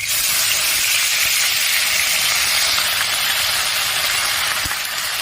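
Ginger paste frying in hot oil for a Bengali rohu fish curry gives off a steady, loud, even hiss of sizzling, with no voices.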